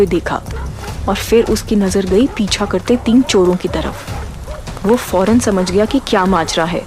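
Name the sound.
dogs barking continuously, sound effect in horror story podcast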